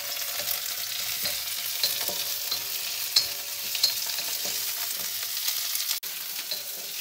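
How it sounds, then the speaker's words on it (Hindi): Onion and broccoli stir-frying in a hot pan, a steady crackling sizzle with occasional sharper pops and scraping stirs, close and continuous with no talk. "सो नाउ प्याज होने के बाद I have to throw in the broccoli."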